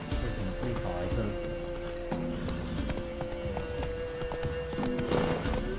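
Hooves of Roach, Geralt's horse in The Witcher 3, clip-clop at a steady trot under continuous game music and ambience, with voices talking over it.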